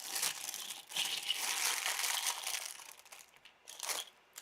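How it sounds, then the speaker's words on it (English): A resealable plastic bag being handled while opening a sewing kit, with close, crisp crinkling and rustling in uneven bursts and short pauses, loud and near. "Oh, I love these resealable plastic bags. They are so great."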